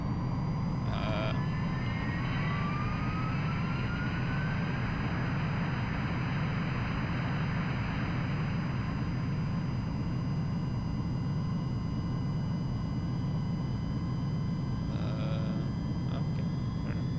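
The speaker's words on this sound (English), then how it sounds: "Clear for takeoff." A fighter jet takes off in the Ace Combat 3 video game, a loud, steady roaring engine wash that holds for the whole stretch, with brief tonal game effects near the start and end and no voices.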